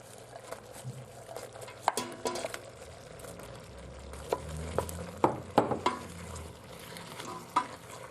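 Beef with onions and garlic searing in a slow cooker pot, a low sizzle with scattered scraping stirs and clinks of a utensil against the pot, fairly close.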